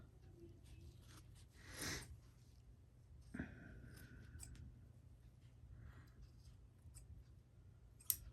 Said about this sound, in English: And then you want to take your scissors and cut off the extra.